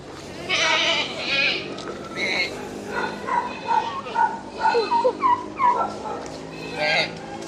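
A goat bleats several times in short wavering cries, close by on a farm in Tanay, Rizal, Philippines, with people talking over and between the calls.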